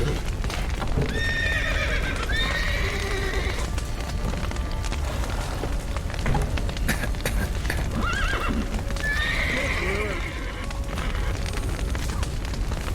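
Horses in the Witcher 3 video game neigh and whinny several times over steady hoof clopping, with a busy rumbling background of a collapsing burning building.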